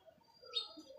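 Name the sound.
golden pigeon on the rooftop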